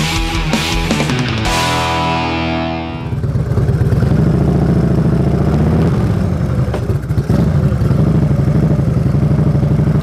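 An Indian motorcycle engine runs steadily and loud close by, after a brief opening of other tonal sound, with a continuous low rumble throughout.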